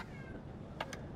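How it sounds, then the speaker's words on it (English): A cat gives a short, faint meow, then a couple of brief chirpy calls close together near the end, over a low background hum. "So if you hear a cat, yeah, there's a cat."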